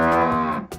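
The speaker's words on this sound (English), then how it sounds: "It's a cow!" A cow on a farm lets out a single loud, drawn-out moo, close and clear with no other sounds around it.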